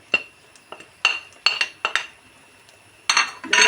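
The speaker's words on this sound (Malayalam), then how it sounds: "ഇതെല്ലാം ചേർത്ത് നന്നായി ഒന്ന് ഇളക്കി കൊടുക്കാം" A metal spoon clinks and scrapes against a pan in short, separate strikes while chili, coriander and turmeric powders are stirred into a country chicken curry, ending in a quicker burst of scraping.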